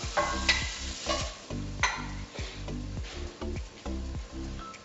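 Tomatoes char in a hot pan while making salsa, with a steady sizzle broken by repeated scraping and stirring sounds close by, and no voices.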